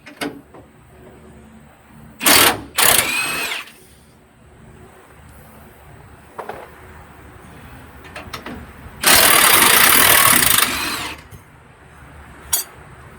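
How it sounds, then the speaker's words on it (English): A Milwaukee Fuel cordless power tool breaks loose brake bolts on a 2004–2011 Ford super-duty truck. It gives two short loud bursts, then one longer whirring run later, between quieter workshop handling noises. "The Milwaukee fuel just powers through anything"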